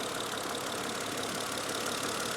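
A Mercedes engine idles in park, a steady even hum with faint knocking texture, moderately quiet and continuous with no talk over it.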